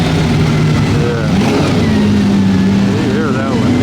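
A classic car's engine revs steadily and loudly at close range during a tour at the Pebble Beach Concours, with pitch rising and falling and a faint crowd in the background.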